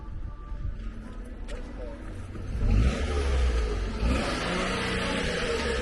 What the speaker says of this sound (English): I don't know why that guy's revving up his car